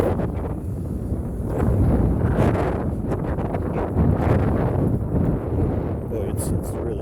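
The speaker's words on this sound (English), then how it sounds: "Boy, it's really windy down here," Strong wind buffets the microphone outdoors at Sutro Heights, a constant low rumbling roar that swells and eases in gusts, with faint rustling underneath.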